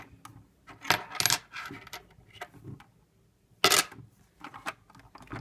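Coins clatter in bursts inside a coin-operated candy vending machine built from Lego bricks, the metallic clinks and jangles landing in several clusters with quiet gaps between them.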